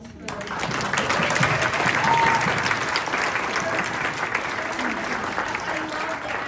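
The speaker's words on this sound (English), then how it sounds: "Can we have a round of applause for those?" Audience applause at a Little Free Library celebration event, a steady wash of many hands clapping that fills the room from start to finish at moderate loudness, with a few voices mixed in beneath it.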